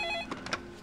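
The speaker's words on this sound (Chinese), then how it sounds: "哦，我接个电话。" A telephone ringtone sounds briefly in an office scene, a short electronic tone followed by a few quick blips before fading, fairly quiet.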